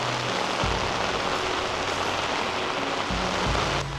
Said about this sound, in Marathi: पाऊस जास्त लागतोय.